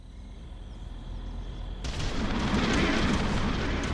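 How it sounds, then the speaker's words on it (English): An artillery barrage in the real-time strategy game Ground Control begins with quiet ambient hum, then a sudden heavy rumbling blast that swells into a sustained roaring wall of explosions, loud and close. "Pulverizing target. Beginning barrage."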